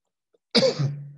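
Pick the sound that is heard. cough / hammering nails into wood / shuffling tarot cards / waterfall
cough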